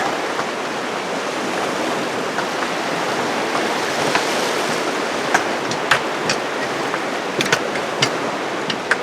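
The Ohanapecosh River rushes below a suspension bridge at Mt. Rainier, a loud, steady broadband roar of flowing water with a few sharp clicks and knocks near the end.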